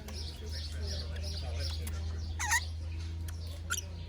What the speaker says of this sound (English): She's cuddlier than your parrot.